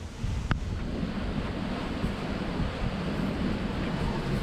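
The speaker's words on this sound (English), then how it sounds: "with these type of waves, it is just ugly out there." Heavy ocean waves rolling and crashing during a rough sailing passage from New Zealand to Fiji in terrible conditions, a constant loud roar of surf and water mixed with strong wind buffeting the microphone.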